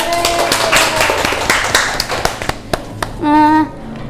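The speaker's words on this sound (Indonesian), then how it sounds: "beri tepuk tangan dulu dong" A classroom of young pupils claps for classmates who came forward, a dense burst of hand claps for about three seconds before it thins out, followed by a short sung or spoken tone.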